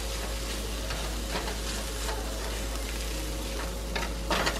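Ground spices are stirred into a hot pan while home cooking for a large family, giving a low, continuous sizzle with soft scraping bursts of stirring and a faint steady hum underneath.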